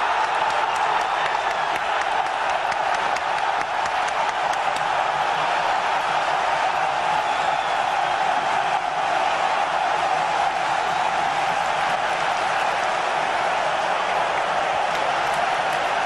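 Huge stadium crowd roaring and cheering continuously after Red Star Belgrade's opening goal against Bayern Munich, a dense, loud wall of voices and applause that holds steady throughout.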